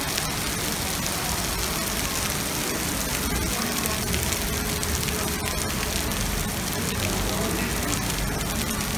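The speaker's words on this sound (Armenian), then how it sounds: "Հաստորեն Երևանի այսօրվա տրամադրությունը անձրև։" Dense, steady rain pattering on hard surfaces of a Yerevan city street, loud and continuous, with faint distant traffic underneath.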